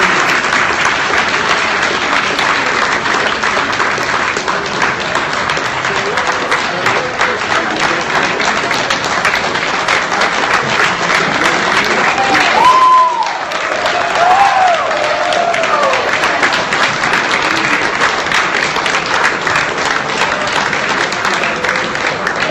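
A large audience at a political speaking event claps in loud, sustained applause that runs continuously, dipping briefly midway while a voice is heard over it.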